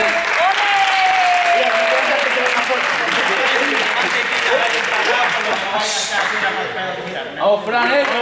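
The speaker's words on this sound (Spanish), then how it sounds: "Un aplauso equipo vamos!" Loud, dense clapping from a crowd, with voices shouting and cheering over it throughout.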